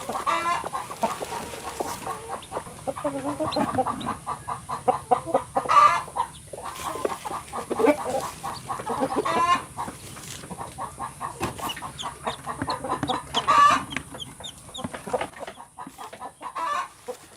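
A mother hen with her chicks clucks in repeated, close bursts, with faint higher peeps in between and no voices over the top.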